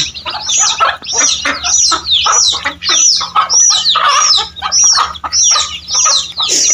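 Chickens cluck loudly and continuously up close, a busy run of overlapping squawky calls with short gaps between bursts.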